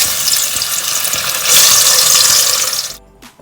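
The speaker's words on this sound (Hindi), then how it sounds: "चिकन हम फ्राई कर लेते हैं। ऑयल हमारा गर्म हो चुका है।" Chicken dropped into hot oil for biryani, a loud close hissing sizzle that swells midway, then cuts off abruptly near the end, leaving a faint brief rattle.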